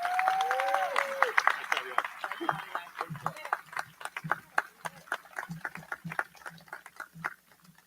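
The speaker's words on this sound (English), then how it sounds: "Let's get another round of applause" Scattered, uneven clapping from a graduation audience celebrating 2024 Essex Tech graduates, sharp individual claps rising and thinning over several seconds in a large hall, with a voice speaking briefly at the start.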